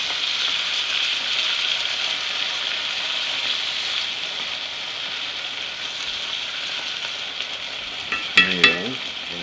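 Food frying in olive oil in a pan gives off a steady, even sizzle that holds throughout, with a few brief clatters of stirring or utensil contact near the end.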